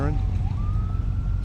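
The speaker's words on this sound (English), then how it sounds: "I think that's sheriff going red light and siren." A sheriff's vehicle siren wails once and rises in pitch at a tractor parade during a gas and steam engine show, fairly close, over a low rumbling background.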